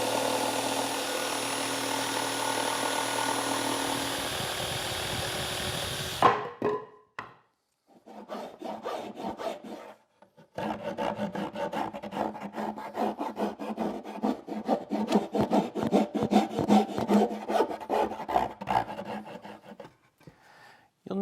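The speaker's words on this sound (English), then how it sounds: "Then it's back to the jigsaw and the file to clean things up and make a nice smooth" A jigsaw and a file cut and smooth a curved arc in the wooden stretcher of a small Shaker bench. A steady buzzing saw runs first, then stops, followed by a long stretch of rhythmic rasping file strokes close by.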